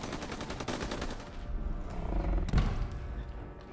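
Gunfire in Call of Duty WW2 on Xbox One, a rapid burst of automatic shots followed by heavier booming impacts and a loud thud, dense and close.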